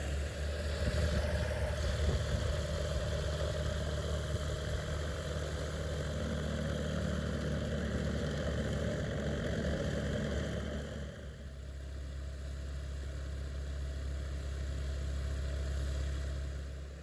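A 100 horsepower Rotax aircraft engine on a Quasar ultralight idles with a steady, loud, buzzing drone. The tone shifts and settles lower partway through, then holds steady.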